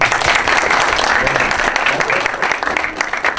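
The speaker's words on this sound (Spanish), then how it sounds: "Un aplauso para Mario, por favor." An audience at a talk on China and the TPP's impact on Mexico gives sustained, loud applause, a dense continuous roar of many hands clapping with some crowd voices underneath.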